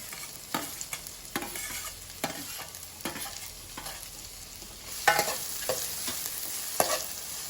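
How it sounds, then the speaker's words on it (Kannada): Onions fry in a pan for rajma curry as chopped tomatoes are added, with a low sizzle broken by repeated sharp scrapes and knocks of a spoon stirring, close and fairly quiet. "ಈರುಳ್ಳಿ ಸ್ವಲ್ಪ ಫ್ರೈ ಆಗ್ತಿದ್ದಾಗೆ ಹೆಚ್ಚಿಟ್ಕೊಂಡಿರುವಂತಹ ಟೊಮೆಟೊವನ್ನು ಸೇರಿಸ್ಕೊಳ್ತಾ ಇದ್ದೇನೆ"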